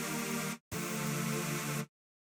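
Harsh, bright soul chords from an FL Studio remake, played dry with every effect switched off. Two sustained chord blocks, the second longer, separated by a brief gap, loud and alone.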